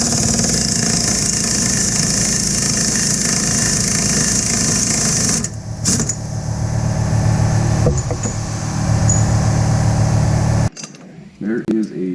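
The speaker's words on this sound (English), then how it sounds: "I'm going to have to turn on the compressor" A workshop air compressor runs steadily and loudly for about ten seconds during a 2015 Toyota RAV4 rear hub bearing job, then cuts off abruptly, leaving a short quieter tail with faint handling noise.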